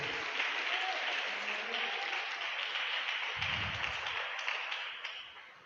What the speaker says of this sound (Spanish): Dele una ofrenda de aplauso al Señor